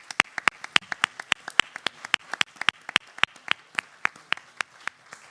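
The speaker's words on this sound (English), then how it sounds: "Let's give those sponsors a round of applause." Sparse applause for sponsors at a symposium: a small audience giving a few distinct, sharp hand claps at an irregular, fairly steady pace, each clap clear and separate against a quiet room.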